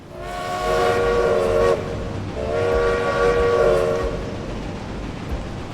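Mallard steam locomotive horn in the Railway Empire game, sounding two long, loud, steady chime blasts close up with a short gap between them, no talking.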